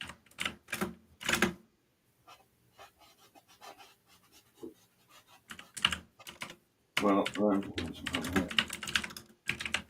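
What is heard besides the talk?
typing on a keyboard or typewriter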